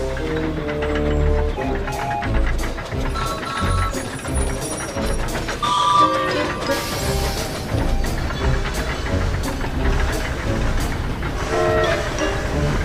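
A steam engine puffs and rolls onto a turntable in a rail yard. Dense mechanical clanking and chuffing continue throughout, with metallic squeals and busy rail-yard noise layered over them.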